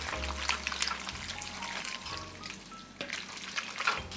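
Thick, creamy stroganoff gravy stirred in a pan, a close, wet, sizzling churn with soft spoon scrapes and a low hum behind it, steady over a few seconds with no talking.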